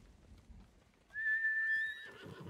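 A horse in the video game Ghost of Tsushima gives one clear, high whinny lasting about a second, following quiet background, with faint hoof-like thuds after.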